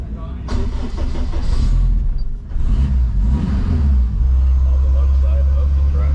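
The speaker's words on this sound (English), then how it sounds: "So I'm gonna go drive it around and make sure it works." An all-wheel-drive Honda EF sedan drives off, its engine rumbling loudly and steadily with a brief dip before it pulls again under continuous road and wind noise.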